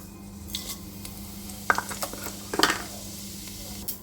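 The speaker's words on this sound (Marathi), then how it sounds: "मोहरी आता तडतडली." Mustard and cumin seeds splutter in hot oil: faint sizzling crackles with a few sharp pops and clinks from a pan, over a quiet steady background hum.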